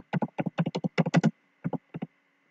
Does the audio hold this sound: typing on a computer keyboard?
yes